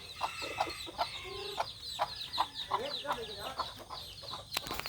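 Chickens cluck in a rhythmic series of short, fairly faint calls at a home yard, with a soft background hum and a few sharper notes.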